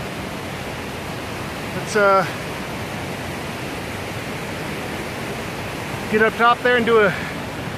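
Alberta Falls in Rocky Mountain National Park roars as a steady, loud wash of falling water filling the whole scene, with brief bursts of talk riding on top near the start and end.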